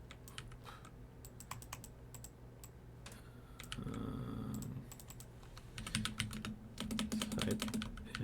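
Typing on a computer keyboard, rapid clusters of key clicks in short bursts with pauses between, close and fairly quiet over a low steady room hum.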